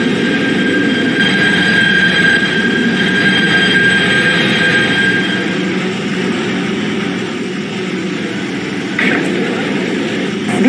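A Kawasaki PA-5 PATH subway train in the Roblox video game rumbles along with a steady roar and a high whining tone that fades midway, followed by a short clatter near the end.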